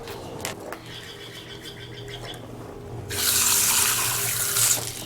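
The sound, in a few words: rinsing junk off reef tank filter under running tap water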